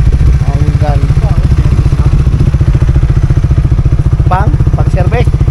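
Hyper Underbone motorcycle engine idling close by with a steady rapid chugging pulse, while people talk over it.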